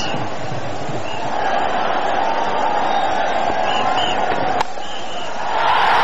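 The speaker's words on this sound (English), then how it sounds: "crowd is loving it" A stadium crowd roars for a Bangladesh boundary in a one-day cricket match against Sri Lanka, a dense, continuous wash of cheering and noise that swells again near the end.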